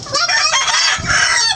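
Chickens cluck and squawk loudly and close, with a rooster-like crow rising among the noisy flock for the whole moment.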